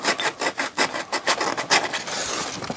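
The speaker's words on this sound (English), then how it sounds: "do a little bit of sandpaper on it." Rhythmic rasping strokes of 400-grit sandpaper rubbing on a part during restoration of a Siemens FM428 stereo, about a dozen back-and-forth passes at close range with no talking.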